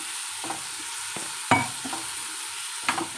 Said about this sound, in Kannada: ಇದನ್ನು ಚೆನ್ನಾಗಿ ಫ್ರೈ ಮಾಡ್ಕೊಳ್ತೇನೆ ನಾನು